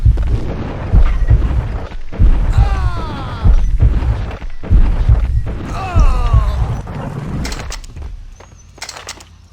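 Explosions in the video game Max Payne, heard as a series of loud, booming thuds with rumbling low end, repeated every second or two over about nine seconds and fading toward the end.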